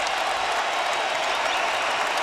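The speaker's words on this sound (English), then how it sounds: "giving Rose this ovation from the crowd" A basketball arena crowd gives a sustained, loud ovation during a 2011 NBA playoff game between the Hawks and Bulls, steady dense applause and cheering throughout with no break.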